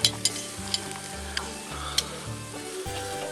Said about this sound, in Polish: Wkładamy po skrzydełku i dokładnie w nim mieszamy.